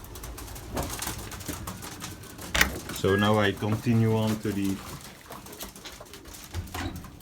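Belgian racing pigeons coo softly inside a loft during a morning routine, their low calls sitting beneath a man's close, steady talking.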